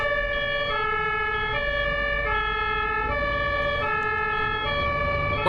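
An ambulance siren on a German road, wailing in a steady two-tone hi-lo pattern that repeats evenly throughout, moderately loud over low road rumble with no voices.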